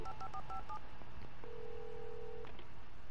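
Telephone tones sound in the Alan Wake Remastered video game: a quick series of short dial beeps, then a single steady tone about a second long, faint and close over a low background hum.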